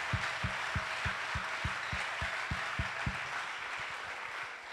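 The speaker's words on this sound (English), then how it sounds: "Let us clap for the choir members." Church congregation clapping for choir members, a steady rhythmic beat of sharp claps set against a broad wash of applause, moderately loud and with no talking over it.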